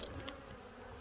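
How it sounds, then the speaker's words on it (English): A super active beehive inside a residential house roof gives off a faint, steady buzzing hum from many bees throughout this short moment, with no voices. "Yeah, with a super active hive."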